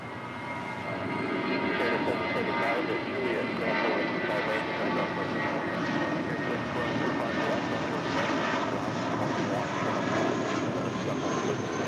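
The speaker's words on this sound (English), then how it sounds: "an Airbus A220-300 landing here on the south side on 25 left" An Airbus A220-300 lands on runway 25 left on the airport's south side, its engines a loud, steady broadband roar that builds early and holds to the end, with a faint voice underneath.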